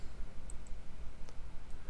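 A few faint, sparse clicks of a computer mouse during 3D modeling work in Maya, spaced apart over low background hum.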